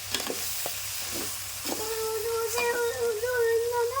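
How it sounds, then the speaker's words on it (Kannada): Spinach (palak) fries in a pan for a village-style palak pulao, a soft close sizzle with a few knocks early on, then a steady tonal whine rising over the hiss in the second half. "ಎರಡು ಕಟ್ ಪಾಲಕ್ ಸೊಪ್ಪು ನೋಡಿ ಇದನ್ನು ಫ್ರೈ ಮಾಡ್ಕೋಬೇಕು"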